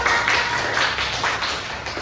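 A classroom of students applauds a classmate, a short steady patter of many hands clapping at moderate distance for about two seconds, with no talking over it.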